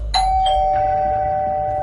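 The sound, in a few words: doorbell ringing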